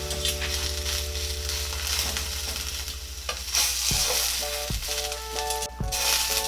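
A pineapple slice sizzles in a pan, the soft steady hiss over a low hum broken by a few knocks and scrapes as it is turned over.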